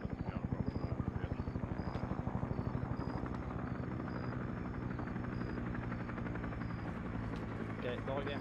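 A helicopter in Arma 3 churns with steady rhythmic rotor thumping, close and continuous, while players talk over it.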